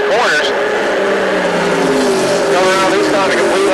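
Stock car racing engines roar loudly at the 1994 Icebreaker 125, with rising and falling engine notes of cars passing on track and a race commentator talking over them.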